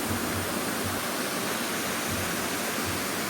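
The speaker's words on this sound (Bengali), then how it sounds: "ততই ঝর্ণার জলের আওয়াজ কেমন বেড়ে যাচ্ছে, শুনতে পাচ্ছেন?" Elephant Falls near Shillong roars as a dense, unbroken wash of rushing water, loud and close, filling the whole scene with steady hiss and rumble.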